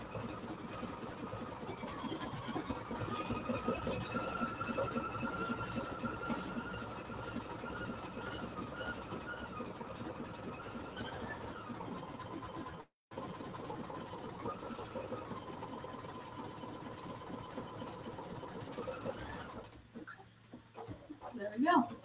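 An embroidery sewing machine with a free arm hoop stitches out a design with a steady, rapid mechanical whirring hum, continuous and moderately close, briefly pausing and tapering near the end; faint talk may sit underneath.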